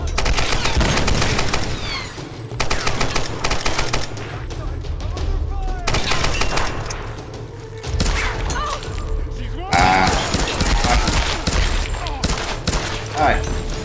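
Sustained bursts of automatic gunfire from a machine gun in the Tomb Raider Definitive Edition video game, loud and dense with rapid rattling volleys, brief pauses and heavy thuds, and no speech over it.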